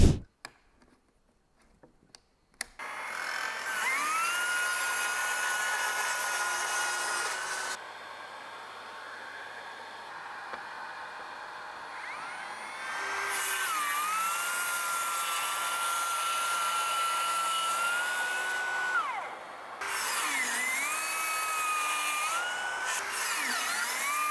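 A cordless circular saw whines through OSB board in three long cuts separated by brief pauses, the high motor pitch dipping under load and recovering.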